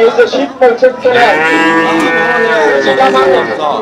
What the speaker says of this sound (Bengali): এই যে গাভী